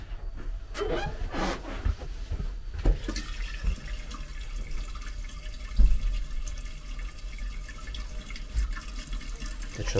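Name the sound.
water running from a tap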